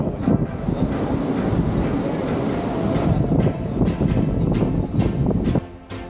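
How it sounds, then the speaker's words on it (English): Strong wind on Ocean Cay by the lighthouse roars and buffets the microphone continuously, with a rushing, gusty texture and occasional louder blasts, no voices. "it was a very windy day on Ocean Cay."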